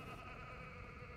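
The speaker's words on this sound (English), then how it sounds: "Why is there a goat laughing?" A faint, goat-like bleating laugh from a video game, a short wavering cry sitting low in the mix.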